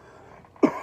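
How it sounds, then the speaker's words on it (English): A single short cough from a podcast host, near and abrupt, following a moment of quiet room tone. "I just got the cough"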